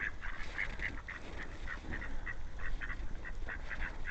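A group of male ducks quacks and honks repeatedly over a steady, noisy outdoor rumble. The calls are moderately loud and rhythmic and go on throughout.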